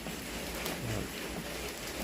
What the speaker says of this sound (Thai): เดี๋ยวให้ฝนหยุดตกก่อน